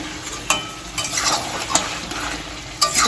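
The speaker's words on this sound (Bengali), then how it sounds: "এই যে এখানে এখন চিকেনটা কষানো হয়েছে রান্না মোটামুটি কমপ্লিট শুধু চিকেনটা বানানো হলেই হয়ে যাবে" Chicken stirred and fried in a pan, a steady sizzle under repeated scraping strokes of a spoon against the pan, close and fairly loud with no talking.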